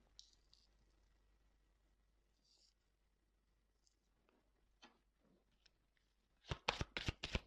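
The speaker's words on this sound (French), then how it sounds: "Je vais tirer quelques cartes complémentaires." Tarot cards riffled and drawn in a quiet room, a few soft slides and taps at first, then a loud burst of rapid shuffling near the end.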